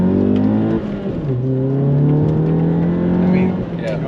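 A car fitted with a Baun Performance exhaust accelerates from inside the cabin, its steady engine drone shifting pitch once and then holding a smooth, fairly quiet tone, with people talking over it.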